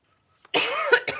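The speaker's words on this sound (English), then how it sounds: "Sorry for the coughing, guys." A few harsh coughs close by, one long rough burst followed by two shorter hacks, after a brief silence.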